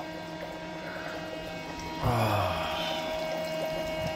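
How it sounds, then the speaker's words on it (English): Hot water pours steadily into an Epsom salt bubble bath, a loud rushing fill starting abruptly partway through and continuing, with a brief exclamation from a voice as it begins. "Epsom salt bubble bath with hot, hot water"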